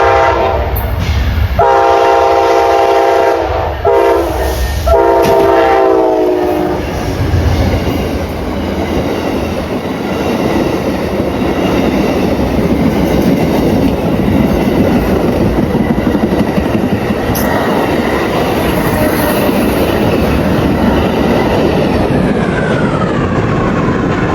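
A loud Amtrak passenger train horn sounds in several blasts as the train, with a private car on the rear, roars past close by in Auburndale, followed by a long steady rush and rattle of cars.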